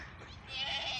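A goat on a mixed vegetable and livestock farm gives a single short wavering bleat, close and fairly clear over low background noise.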